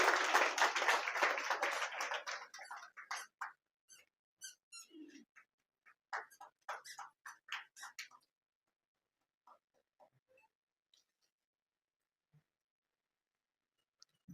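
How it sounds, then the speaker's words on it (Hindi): An audience at the Maa Sanskar Gaurav award ceremony bursts into a loud, dense round of applause that quickly thins into scattered individual claps, then trails off into near silence with a few last stray claps. "एक बार ज़ोरदार तालियां होनी चाहिए हमारे इरशाद मौलाना साहब के लिए।"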